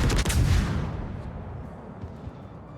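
Battleship main guns fire shells in a naval video game, a loud heavy boom at the start that rolls into a long fading rumble with scattered distant thuds.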